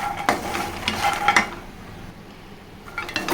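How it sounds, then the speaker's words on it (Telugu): Phool makhana (fox nuts) fried on low heat and stirred in a pan, giving scraping and clinking stir strokes with light sizzle for the first second and a half, then a quieter stretch before a few more stirs at the end. "కొంచెం ఫ్రై అవ్వాలండి."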